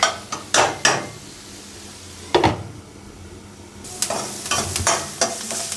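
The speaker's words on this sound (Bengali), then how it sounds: "এটা একটু ভেজে নেই" Frying in a pan gives a steady background sizzle, with sharp knocks and scrapes of a utensil striking the pan at irregular intervals, close and loud, and no speech.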